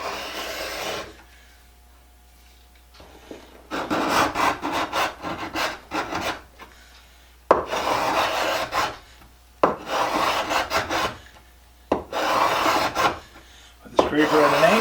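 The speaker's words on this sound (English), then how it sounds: "with the scraper at an angle, taking nice shavings." A Stanley #82 scraper pulls wood shavings in repeated rasping strokes, each lasting a second or two, separated by short silent gaps and heard close up.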